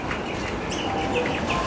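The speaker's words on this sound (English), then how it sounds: "These are cockatoos." Raucous calls of wild white cockatoos, native birds perched near a shop around sundown, several overlapping squawks rising above a steady outdoor ambience.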